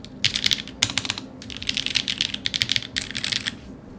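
Fast typing on a mechanical keyboard with DCS keycaps and modded Gateron Sage switches, bursts of close, crisp clacky keystrokes separated by brief pauses.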